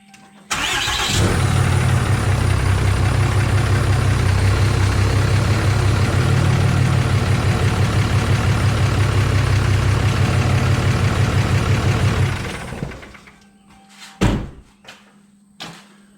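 Truck engine cranks and catches, then idles steadily with a deep, rumbling loud throb for about ten seconds before shutting off, followed by a few sharp knocks and clunks.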